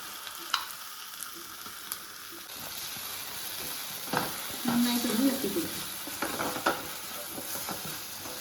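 Masala with tomato stirred in a hot pan for a mushroom curry: a spoon scrapes and pushes through the sizzling mixture in uneven bursts over a constant frying hiss.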